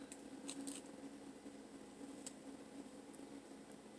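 Scissors give a few faint, quick snips while trimming the antlers on a Dollar Tree tabletop snow globe decoration, isolated clicks spaced over a soft steady background hum.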